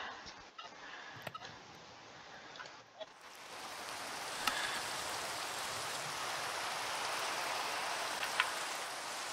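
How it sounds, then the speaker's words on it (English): Minecraft rain falls as a steady, even hiss that swells in after a few seconds and then holds a constant wash, with a few soft clicks near the start and no talk. "It's raining."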